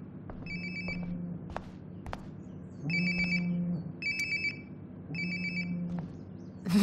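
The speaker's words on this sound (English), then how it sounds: "Sounds like my phone is definitely nearby." A phone ringing close by in the video game Life Is Strange: Before the Storm, sounding in repeated bursts of electronic ringtone over a low ambient background, without speech.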